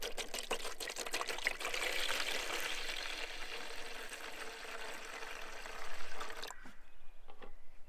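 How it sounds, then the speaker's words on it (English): Evapo-Rust rust-remover liquid poured from an uncapped bottle into a tub to submerge items, a steady, close splashing pour lasting about six seconds before it stops and the room falls nearly quiet. "we're going to uncap our Evapo-Rust, and all it says is that we just need to submerge the items in the liquid"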